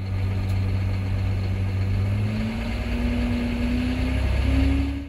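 A farm tractor engine runs steadily after a filter change, a close, continuous diesel drone whose pitch rises slightly as it revs, then cuts off abruptly at the end.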